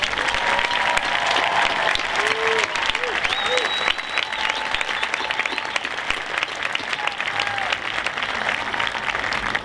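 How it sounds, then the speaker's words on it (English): Round of applause from the audience at a class of 2022 graduation ceremony, steady, full clapping sustained for nearly ten seconds with scattered cheers and voices. "Will Faith Ingber, Lily McAuliffe, and Nina Scambolori stand for a round of applause?"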